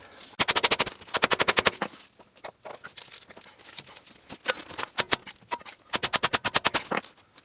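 Sharp metal hammer blows driving a driver-side CV axle into a 2004 Nissan Maxima, struck in three fast rapid-fire bursts of about eight to ten hits each, with scattered single taps and clinks between them, close and loud.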